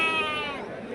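A sheep bleats once at a busy livestock market, a loud wavering cry close by that fades over a second, with crowd noise underneath.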